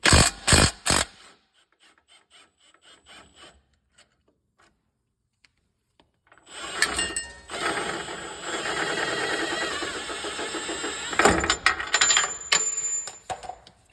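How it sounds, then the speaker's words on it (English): A bottom strut bolt and nut coming off a 2024 Toyota Tundra, heard as a few sharp metallic knocks, then near silence, then several seconds of loud ratcheting and grinding work close by, with no talk. "Now you will remove the 22 millimeter bottom strut bolt and nut that hooks onto the lower control arm"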